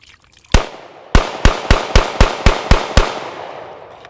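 A SIG P320 pistol is fired nine times outdoors: one loud, sharp shot, a short pause, then eight more in a quick, even rhythm, each with a short decaying echo.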